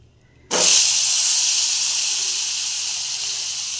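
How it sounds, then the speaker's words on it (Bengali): Potatoes dropped into hot oil in a kadai burst into a sudden loud sizzle after a brief quiet moment, then hold a steady close frying hiss. "আলুগুলো দিয়ে দিলাম তেলের মধ্যে। আলুগুলো একটু লাল লাল করে ভাজতে হবে।"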